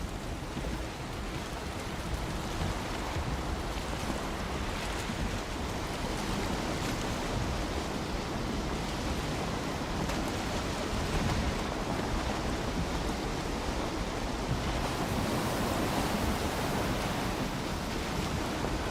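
Ocean waves around a sailing boat at sea in the game Valheim, a dense, steady rush of surf and spray that stays loud and unbroken throughout, with no voices.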